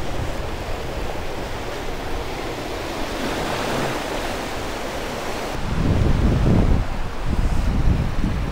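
Sea waves wash onto a beach at Cartagena, Colombia, as a broad steady hiss of surf mixed with wind buffeting the microphone, swelling louder and rougher in the last few seconds.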